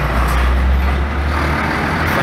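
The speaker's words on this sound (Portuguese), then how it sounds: "Essa carreta passar em frente" A semi-trailer truck passes close in front at a bus stop in Valadares, Brazil, a loud low engine rumble and broad road noise that swells and holds over a couple of seconds.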